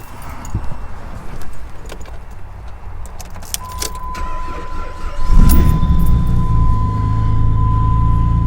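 A car engine in cold weather cranks slowly on a batteryless jump starter, then catches and settles into a steady loud idle, with a faint jangle of keys and a steady tone beforehand.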